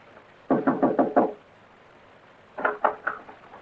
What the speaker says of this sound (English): he rapped on Blueskin's front door that night